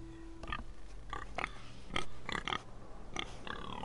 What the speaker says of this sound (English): Can I kill the pig for practice?